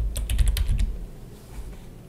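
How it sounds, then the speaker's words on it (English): A quick burst of keystrokes rattles on a computer keyboard for under a second, close and crisp, then fades into quiet. "go ahead and go back and type it one more time"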